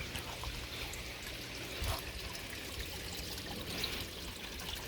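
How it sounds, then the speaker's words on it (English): Water pours from an opened valve on a koi quarantine holding tank, giving a steady close rushing gush that runs unbroken through the whole stretch with no talk over it. "I just open this up and you get a ton of water real quick"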